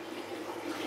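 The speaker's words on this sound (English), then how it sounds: "The water's going over." Water flowing steadily over an aquarium overflow box, a continuous close trickling and rushing with no talk.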